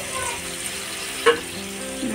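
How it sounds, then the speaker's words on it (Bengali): Vegetables such as carrot fry in hot oil in a home kitchen, a soft continuous sizzle with a brief clatter partway through. "ফ্রাই করার জন্য আমি সবজিগুলো এক এক করে ভেজে তুলছি।"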